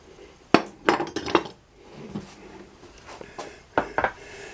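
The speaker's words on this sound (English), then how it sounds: "Let's unclamp it completely." A yew stick bow is unclamped from a wooden tiller, giving a few sharp knocks and clinks in separate bursts, close and fairly clear against a quiet room.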